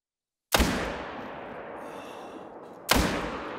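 Two sharp, loud Olsson Model 23 .308 rifle shots in the hunting game theHunter: Call of the Wild, about two and a half seconds apart, each ringing out with a long fading echo and no talk.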